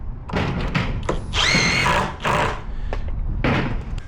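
Power drill driving a screw to secure a countertop piece, several short whirring bursts with a longer high-pitched spin in the middle, close and loud in a workshop setting.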